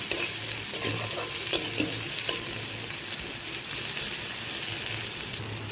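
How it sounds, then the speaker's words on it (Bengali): Chopped ginger frying in a pan with garlic, giving a steady close sizzle with a few soft clinks and scrapes of stirring and no talk. "এবার আদা কুচি দিয়ে দিলাম। ভালো করে একটু ভেজে নেব।"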